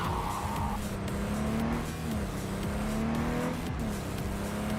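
A car driven in Cyberpunk 2077, a steady engine drone with gear-like pitch steps and some tire noise, moderately loud with no talking.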